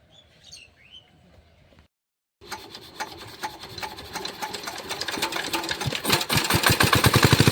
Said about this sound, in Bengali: আর মেশিনের এই যে হ্যান্ডেল, আমি একবার চালিয়ে নিচ্ছি